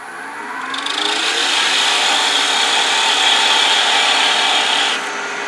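A wood lathe turning a chess bishop while a tool sizes the wood down to 10 millimetres, making a loud, sustained high scraping hiss for about four seconds before it tapers off.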